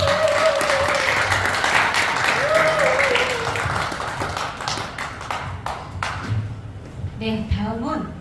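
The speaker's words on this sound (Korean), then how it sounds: "뜨거운 박수 부탁드리겠습니다" An audience at a local media innovation seminar marking a news outlet's first anniversary applauds. Dense, close clapping runs under a speaking voice, then thins into scattered claps and taps as the voice carries on.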